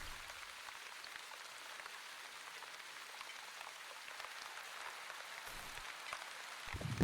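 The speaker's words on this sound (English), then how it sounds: "It's raining." Soft, steady rain from The Wandering Village video game, a quiet continuous patter of drops heard alone without voices.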